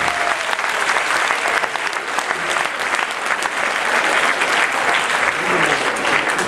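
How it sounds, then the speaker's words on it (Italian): Loud, continuous audience applause fills a hall at a federal political assembly of the Lega, dense many-handed clapping with crowd noise that holds steady throughout, with voices mixed in beneath it. "l'applauso alla signorina."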